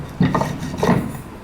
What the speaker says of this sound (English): Then we use the rolling pin, like this, to stretch it out